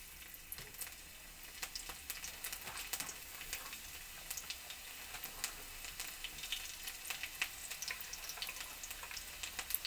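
Chopped garlic sizzling in hot white oil, a steady, soft frying crackle with small pops, close and fairly quiet with no talk.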